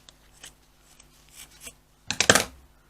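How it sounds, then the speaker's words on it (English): Scissors snipping cotton thread at a sewing machine, a few faint soft clicks followed by one louder, close crisp snip near the end. "I just snip the cotton but leave it in"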